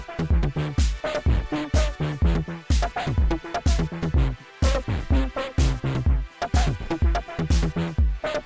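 A Woovebox groovebox plays a looping sequence, with a punchy bass line following the chord track under steady percussive hits in a repeating, slightly shifting rhythm, close and even in level with no voices.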